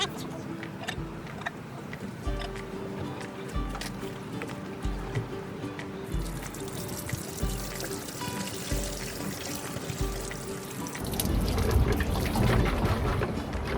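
Black or gray waste water from a camper tank gushes and gurgles steadily as it drains at a campground, with periodic low thumps throughout and the flow growing louder near the end.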